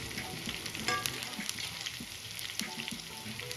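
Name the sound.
garlic and spices sautéing in pan for misal pav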